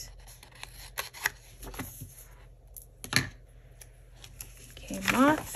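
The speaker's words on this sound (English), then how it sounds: "cut off this bottom part" Scissors snip through sticker paper at a desk while a planner spread is being decorated, a handful of crisp, fairly close cuts scattered through the moment, with a soft voice talking near the end.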